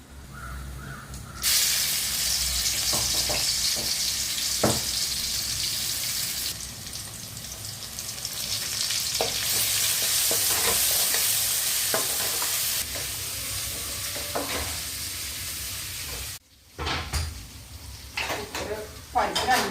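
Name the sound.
frying ivy gourd (kovakkai) stir-fry with shallots and garlic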